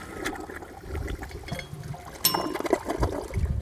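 A Toto toilet flushing in a head-to-head test of budget-to-premium toilets, a rushing swirl of water with a sharp gush midway and trickling, gurgling refill noises toward the end.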